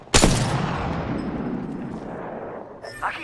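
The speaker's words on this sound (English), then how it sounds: "Getting shot at." One sharp, loud gunshot blast from a Dead Space video game session decays into a long, rumbling echo, and a brief voice comes in near the end.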